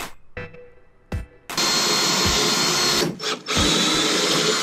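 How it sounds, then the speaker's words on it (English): A power drill whines loudly and steadily after a couple of short bursts, drilling into a car trunk, briefly dipping mid-run before revving back up, close by. "So this is where we're going to drill and make an opening."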